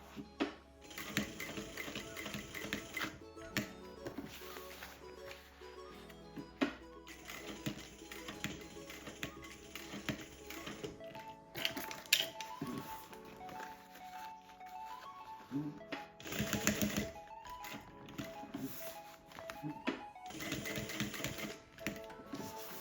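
A sewing machine stitches a strap onto a thermal lunch bag in bursts of rapid mechanical whirring and clatter, broken by pauses and handling noises, while someone talks throughout.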